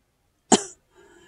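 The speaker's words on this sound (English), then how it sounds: "excuse me for coughing and saying so" A single sharp cough from a person, loud and close, followed by a faint breathy sound a moment later.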